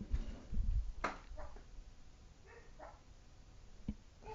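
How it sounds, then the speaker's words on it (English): A dog named Luigi barks aggressively indoors: a few sharp, scattered barks at moderate distance, separated by quiet pauses, with faint background noise. "that's a little more of an aggressive bark"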